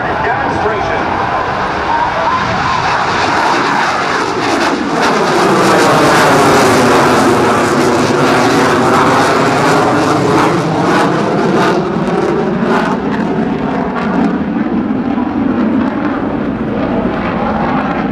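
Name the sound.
Canadian Forces CF-18 Hornet jet flying demonstration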